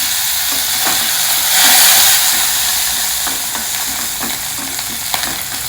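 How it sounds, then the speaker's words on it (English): Mustard seeds and soaked methi seeds frying in a spoon of hot oil for a South Indian kuzhambu: a continuous close bright sizzle and crackle with scattered pops, swelling briefly in the middle. "Add a spoon of oil. Add some mustard seeds."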